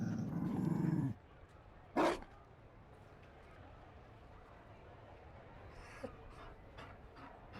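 A Mabari war dog in Dragon Age: Inquisition gives a single sharp, loud bark after a brief low rumble, then the scene settles into quiet background ambience with a few faint ticks.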